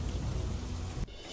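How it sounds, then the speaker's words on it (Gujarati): Heavy rain pours down over a rural area near Himmatnagar, a dense, steady hiss of downpour that cuts off abruptly just before the end into a thinner, quieter wash. "હિંમતનગરના ગ્રામ્ય વિસ્તારમાં ધોધમાર વરસાદ"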